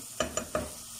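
Onions browning in a hot pan, with three quick scrapes of a spoon stirring them at a steady pace over a low, continuous sizzle.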